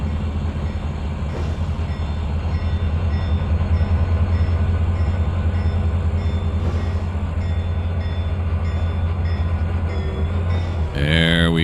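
Train shunting in the Trainz 2022 simulator, a locomotive's steady low engine rumble with rolling wagon noise throughout, a brief horn-like tone near the end, and a voice speaking briefly.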